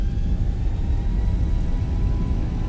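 Boeing 737-800 jet engines in the X-Plane 11 simulator spool at full throttle for takeoff, giving a steady, heavy low rumble that holds evenly for a few seconds, with no talking.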